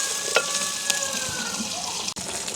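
Onion, garlic and green chili sauté in hot oil, giving a steady, close sizzle with a few sharp crackles and a brief scrape of stirring, heard alone.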